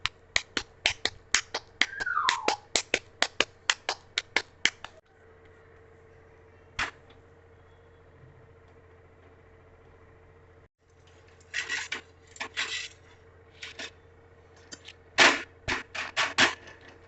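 Bajra rotla dough being patted flat by hand, a rapid run of sharp slaps, a quiet pause, then more irregular bursts of close, crisp pats.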